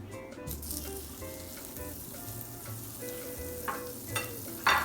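Butter sizzles steadily in a hot frying pan while chicken pasta is cooked, with a soft continuous crackle and a few louder spits and clinks near the end, no talking.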